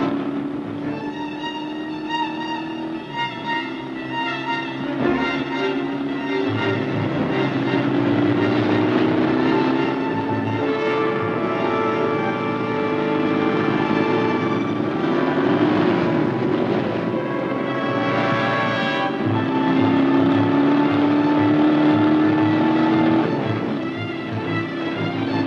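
A motorcycle engine drones and revs continuously over rough, difficult terrain, its loud harmonic whine rising and falling with throttle changes, close by and with no voices heard.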